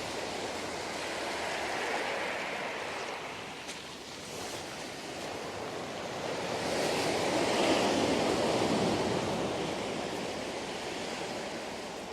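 Ocean waves wash onto the beach at Ebey's Landing as a continuous roar of surf that swells and recedes. Wind gusts are mixed in, and no voices are heard.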